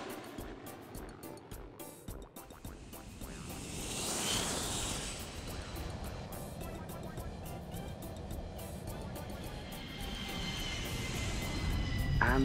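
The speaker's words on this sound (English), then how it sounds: "With a rumble and a whoosh, the plane soars up into the air." Toy airplane take-off effect in a children's stop-motion play show: a rising rumble swelling into a long, loud whoosh that builds steadily and stays dense through the end.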